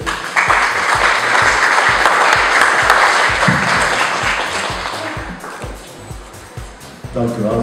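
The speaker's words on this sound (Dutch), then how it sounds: "Mag ik u daarvoor het applaus" An audience applauds loudly and continuously at the Miss Bredene 2014 finalist presentation, with a rhythmic music beat thumping underneath; the clapping thins out toward the end.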